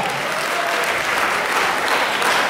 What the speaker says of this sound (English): So you all clap it up for yourselves for doing a good job.